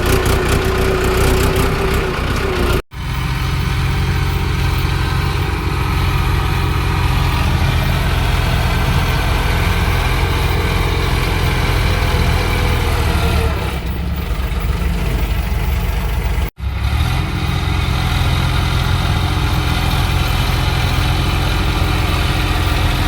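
A tractor engine idles steadily and loudly nearby for a long stretch, a constant low diesel rumble broken by two brief cuts, with no talking over it.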